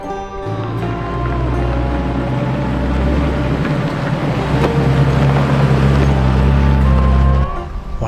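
Off-road vehicle descending a mountain shelf road on Imogene Pass, its engine a steady, loud low drone with rumbling and rattling that holds for several seconds before easing off near the end.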